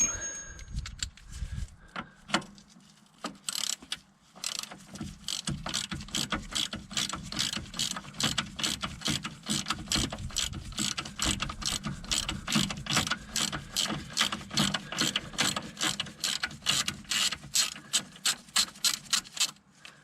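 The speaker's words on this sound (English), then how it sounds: "And then crack off the nut." A ratchet cracks off the nut on a Kia Picanto track rod end with rapid, steady metallic clicking that runs close and loud for most of the clip, after a few initial clanks of the tool being positioned.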